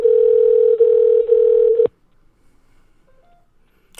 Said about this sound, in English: You guys hear that ringing?